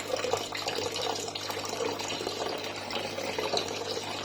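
Water poured gradually into a goldfish and stingray aquarium, aimed over the air pump, a steady close splashing rush that continues without pause.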